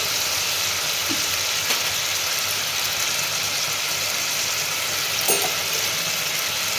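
Ginger paste sizzles in a frying pan with a little water, giving a steady, close hiss that stays even throughout, with a couple of faint utensil clinks and no talking.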